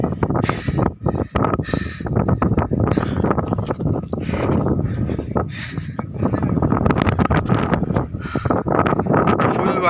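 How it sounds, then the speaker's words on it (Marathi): Strong wind at Malhar Gad hill fort buffets the microphone in loud, continuous gusty roars and rumbles that fill the whole stretch, with brief dips between blasts. "फुल वारा चाललेला आहे इथे."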